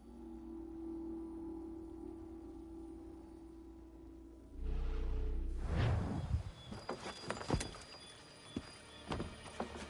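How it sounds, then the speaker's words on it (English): Horse hooves in Assassin's Creed III clop in a quick, uneven run of close thuds that starts about halfway through, after a quiet stretch of low ambient hum. "They've only left a single horse."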